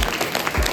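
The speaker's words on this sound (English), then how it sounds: "Clap for him please." Brief burst of audience clapping in a classroom or lecture setting, dense and fairly close, lasting under a second.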